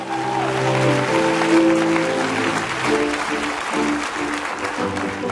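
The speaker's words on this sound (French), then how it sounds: "Acclame le nom du Seigneur, toi qui as la grâce d'être connecté." A worshipping church congregation cheers and applauds, a sustained, loud roar of clapping and shouting voices blended with held musical notes that soften slightly toward the end.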